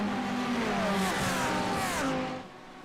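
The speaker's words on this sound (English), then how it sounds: "Listen to the wonderful sound of GT3 machinery screaming its way up the hill." GT3 race cars at Watkins Glen scream uphill under hard acceleration, several engines overlapping with rising and shifting high-pitched notes, loud and close before fading slightly at the end.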